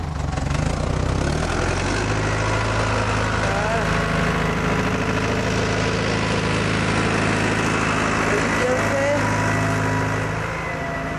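A farm tractor idles nearby with a steady, low, droning engine hum that holds for several seconds before easing slightly at the end, while someone speaks over it.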